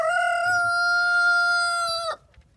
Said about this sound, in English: I haven't named the roosters.